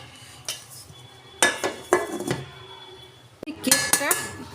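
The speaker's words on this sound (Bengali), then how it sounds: "এটা আমি এরপর ঢাকনা দিয়ে দেবো।" A metal lid set onto a stovetop cake pot, several loud close clanks and scrapes in two bursts with quieter rattling between, no speech.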